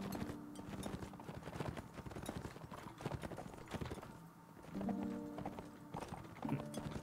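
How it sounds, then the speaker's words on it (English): Horse hooves galloping in the Mount and Blade with Fire and Sword video game, a fast rhythmic clip-clop that runs steadily throughout, fairly close, with faint battle sounds behind it. "spur the horse onward, and S to rein him in"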